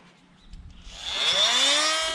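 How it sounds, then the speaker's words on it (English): A multi-tool cuts out fiberglass cross beams inside a boat. After some faint scraping, a high buzzing whine swells up and holds steady and fairly close. "The new multi-tool made short work of cutting out the cross beams and removing the remaining fiberglass skin"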